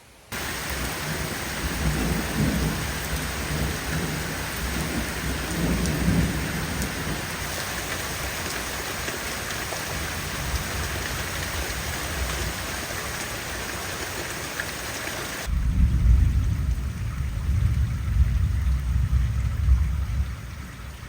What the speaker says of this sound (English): There goes the storm.